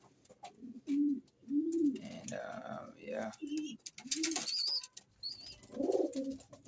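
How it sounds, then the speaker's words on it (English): Breeding pigeons or doves in an aviary give repeated soft, rolling coos in a steady rhythm close by, with a person talking briefly over them and some bright chirps mixed in. "Here's the breeding bird."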